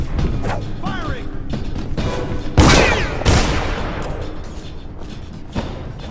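Gunfire in the video game Dishonored, with loud close shots and a crashing burst amid ongoing combat noise, mechanical clatter and shouting game voices.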